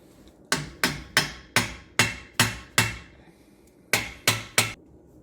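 A hammer strikes a driver to seat an axle seal in a Ford 8.8 rear axle: seven sharp, evenly spaced metallic blows, a short pause, then three more, loud and close with ringing decays.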